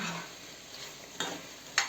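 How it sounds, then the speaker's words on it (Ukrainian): A utensil scrapes and stirs garlic in a pan close by, with a soft sizzle and a couple of sharp clinks against the metal. "Перемішуємо все все з чесничком."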